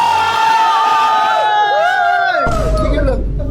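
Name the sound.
group of people shouting and cheering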